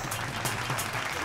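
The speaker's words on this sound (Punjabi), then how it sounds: "ਕੀ ਬਾਤ ਹੈ ਜ਼ੋਰਦਾਰ ਤਾੜੀਆਂ" Loud, dense applause rolls from a studio audience at a Punjabi game show, a continuous close burst of many hands clapping.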